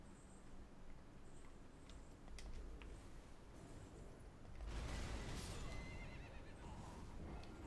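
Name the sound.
horse galloping and neighing in Elden Ring video game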